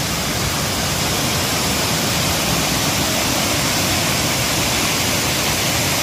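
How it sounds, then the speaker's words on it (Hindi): A waterfall near Siem Reap pours down with heavy pressure, making a loud, steady, unbroken roar of rushing water that fills the whole scene with no voices over it. "So this is the waterfall."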